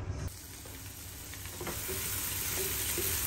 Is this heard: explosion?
no